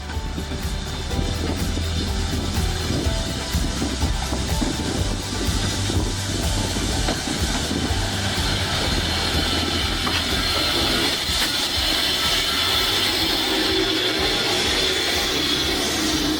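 A BR Standard 9F steam locomotive, number 92134, rumbles and hisses steadily nearby at a steam gala on the North Yorkshire Moors Railway, with rhythmic rail clatter and a continuous hissing wash throughout.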